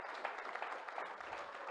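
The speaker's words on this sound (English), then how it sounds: "I just want to give a huge round of applause to the organizers" Faint, distant applause at a conference closing session, a steady patter of many hands clapping without any voices.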